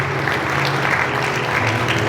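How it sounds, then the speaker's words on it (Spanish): A church congregation applauds loudly and continuously, a thick wash of many hands clapping together with a low hum of crowd noise underneath, steady from start to finish. "Denle ese aplauso más fuerte al Señor"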